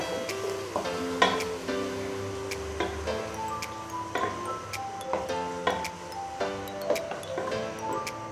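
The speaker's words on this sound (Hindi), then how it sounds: "और अब हमने अपने मसाले को अच्छे से भून लेना है, और इसी के साथ हमने आलू भी डाल देने हैं" Potatoes frying with spices in a pan for aloo keema give a moderate sizzle under repeated stirring clicks and scrapes, close and steady, with no speech.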